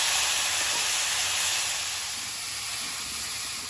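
Green chili, black cumin and taro sizzle in hot oil after fried fish comes out of the pan, a steady loud hiss that eases off slightly toward the end.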